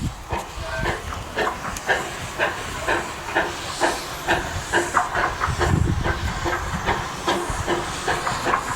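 A steam locomotive at Golden Spike National Historical Park, Promontory, Utah, huffs in regular, rhythmic chuffs of hissing steam, about two per second, close and fairly loud.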